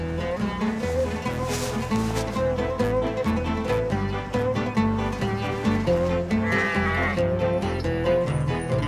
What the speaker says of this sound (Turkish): Aa burada koyunun ne işi var?